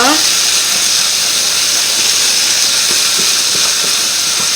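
Oil sizzles loudly in a pan of apple boudins seasoned with herbes de Provence, a continuous bright hiss with a few soft knocks from the pan.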